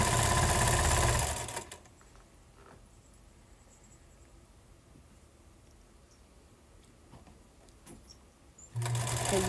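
A sewing machine runs with a loud, steady mechanical whir for under two seconds, falls silent to a low room hum, then starts up again at the end.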